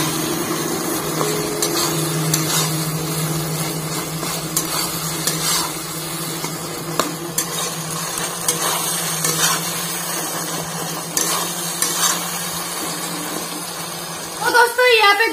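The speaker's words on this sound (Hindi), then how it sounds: "तो टमाटर को अच्छे से मसाले के साथ मिक्स करना पड़ेगा" Tomatoes stirred and fried with masala in a pan for fish curry, with a steady sizzle and scraping stirring throughout and a louder clatter at the end.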